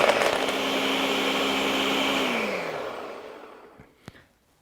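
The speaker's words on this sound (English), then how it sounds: "And I'll let you start the blender." A kitchen blender whirs loudly as it blends a smoothie, running steadily for about two seconds before winding down to silence, followed by a light clack.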